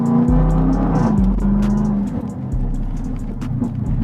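Modified supercharged Jaguar F-Type V8 with a loud aftermarket exhaust and about 550 bhp, heard from the cabin as it drives under steady load. The engine drones loudly throughout, with a few shifts in pitch as revs change.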